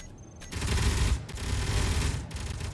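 Turret gunfire at a base in Space Engineers: a dense, continuous stream of rapid shots that swells and drops, pausing briefly once before resuming, fairly distant and muffled.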